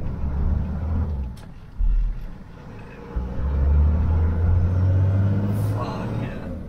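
A rebuilt Toyota HJ75 Troopy with a 2H turbo diesel engine runs with a low, steady rumble from inside the cabin, the drone swelling as it pulls, while people talk over it.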